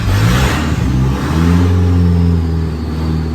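A car engine fitted with a cheap turbo kit revs up loudly nearby, its pitch climbing steadily and holding at a high, droning whine with no voices.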